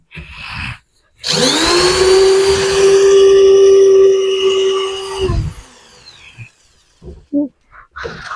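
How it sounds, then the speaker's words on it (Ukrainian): A power drill bores holes into a wooden board for a chicken roost, one long loud whining run of several seconds that winds down, then faint scattered knocks and handling sounds. "сверлимо дирочки, щоб було зручно прикручувати."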